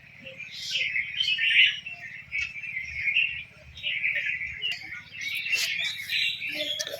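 A bird calls over and over around a village household, bright, chirpy phrases repeating in bursts every second or two, close and clear over a low background hum.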